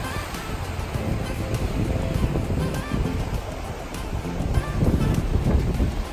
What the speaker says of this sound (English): It's too windy here.